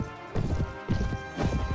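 Horse hooves pound the ground in a galloping rhythm during a medieval battle in the video game Mount and Blade, with clear clip-clop hits over a steady game background.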